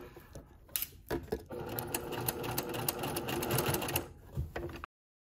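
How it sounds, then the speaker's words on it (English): Sewing machine stitching a steep curved inseam pocket seam, a fast mechanical chatter that starts and stops in short bursts, then runs continuously for a few seconds before a final pause, close and clear. "Sometimes when you're sewing a very steep curve like this, you almost may need to stop and pivot as if you're turning a full corner"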